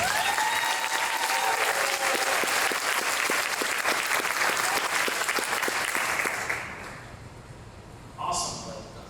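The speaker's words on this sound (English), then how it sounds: "Please give Vala Brooks a round of applause." Banquet crowd at a chamber of commerce awards dinner applauds an award recipient, a long, steady burst of many hands clapping that fades out after about six seconds before a voice speaks.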